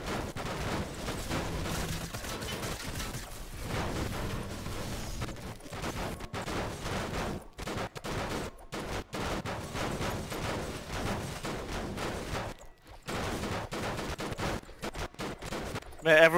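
Dense, continuous gunfire from Fortnite weapons hammering an ice cream van in the middle of a match, rapid overlapping bursts with brief gaps, loud and sustained throughout.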